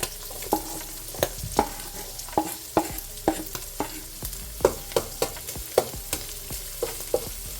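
Onion cooking in a pan beside saltfish, a constant sizzle broken by regular scraping knocks of a utensil stirring it, close and fairly loud with no talk.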